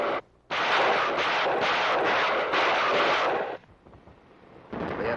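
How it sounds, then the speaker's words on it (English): A rocket launcher barrage from a Korean War film: loud, continuous roaring blasts with rumbling booms for about three seconds, a brief break, then more firing near the end. "Early one morning, the rocket launchers move in and lay down a barrage."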